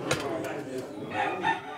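Roosters at a cockfighting pit, with crowing-like calls rising around the middle and end over a busy, murmuring crowd background.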